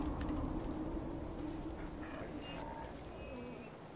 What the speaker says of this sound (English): Raining out here, huh?